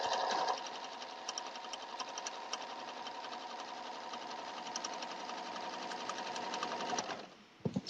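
A sewing machine runs steadily while stitching binding onto a log cabin quilt, a continuous close whirring hum for several seconds before stopping with a few faint clicks at the end.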